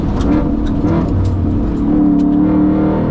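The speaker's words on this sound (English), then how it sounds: "give it even higher revs and make the car really lose its rear end" A Ford Mustang Dark Horse engine revs hard and high, a loud steady roar with a rising pitch held close for several seconds, no talking over it.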